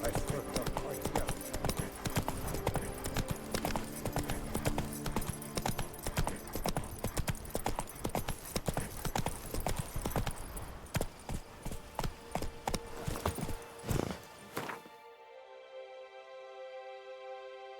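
Geralt's horse Roach trotting in The Witcher 3: Wild Hunt's Blood and Wine, a steady, close clip-clop of hooves in an even rhythm under speech, fading out as music takes over near the end.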